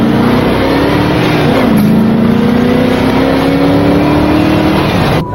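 A car with a small 350 engine making about 450 horsepower revs hard and loud, its rising engine tone steady and close, then cutting off abruptly at the end.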